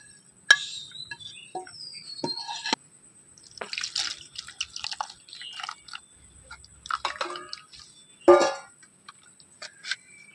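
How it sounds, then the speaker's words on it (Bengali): Grated potatoes are dropped into water and washed by hand, giving close, intermittent splashes, drips and sloshing with quiet gaps between, plus one louder splash near the end. "তো এবারে আমি আলু দুটোকে কিন্তু সঙ্গে সঙ্গে জলের মধ্যে দিয়ে দেবো"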